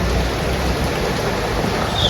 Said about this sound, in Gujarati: જો હમણાં તો માપે માપે આવતો હતો વરસાદ.